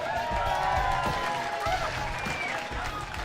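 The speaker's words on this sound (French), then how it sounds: "Applaudissez James Ellis." Boxing crowd applauding a fighter, James Ellis, at a packed amateur bout, with steady clapping and crowd murmur throughout, some voices over it.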